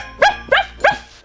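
Three quick, close, high-pitched puppy barks in an even rhythm, used as a sound effect in a Christmas story, with no talking over them.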